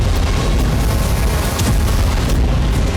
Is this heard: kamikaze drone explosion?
yes